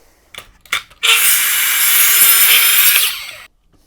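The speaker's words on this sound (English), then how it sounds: "cut that one off at the saw" A power saw, likely a mitre saw set for a bevel, cuts through a wooden board for a light box frame: a loud, close, sustained whine of about two and a half seconds, preceded by a couple of knocks.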